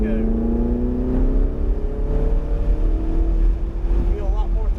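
A car accelerates on a cone driving course with a steady, rising engine drone heard from inside, loud and continuous, while an instructor talks over it.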